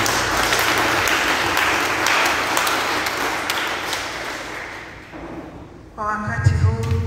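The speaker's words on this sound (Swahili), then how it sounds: "Tuweze kumpigia Yesu makofi makubwa." A church congregation gives loud, sustained applause that gradually fades, then a voice speaks briefly over a musical tone near the end.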